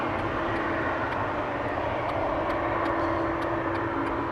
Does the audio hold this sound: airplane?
yes